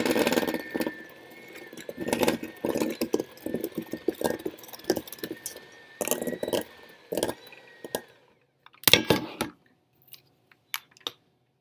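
A mixer beats powdered sugar into cream cheese icing, giving a close, rough, whirring drone that stops and starts in bursts, then falls quiet except for a few clatters near the end.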